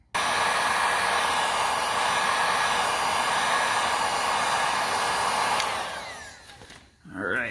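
A heat gun blows steadily for about six seconds while warming the factory decals on a quad, a constant loud whooshing roar that winds down near the end, followed by a brief rustle as it switches off.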